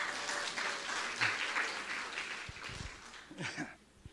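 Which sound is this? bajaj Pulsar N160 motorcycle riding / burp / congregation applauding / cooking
congregation applauding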